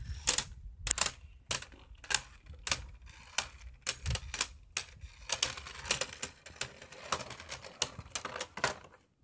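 Two Beyblade spinning tops, Drain Fafnir and Blast Genius, battle in a stadium, producing rapid, irregular sharp clicks and clacks as they strike each other and the bowl, close and steady throughout.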